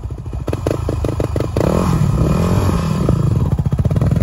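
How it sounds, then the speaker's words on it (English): A dirt bike, an on-off-road machine with a hard rear tire, revs and pulls away with a rough clattering engine note that rises and pulses as it accelerates, loud and close, with no talking. "The bike is going"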